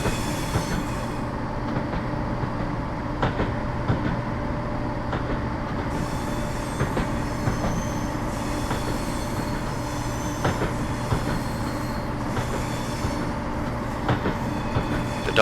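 A Class 170 diesel multiple unit runs steadily in Train Simulator 2015 on the Perth to Dundee route, with a continuous engine and rolling rumble, rhythmic wheel clicks over rail joints and occasional squeals, heard alone at a constant level.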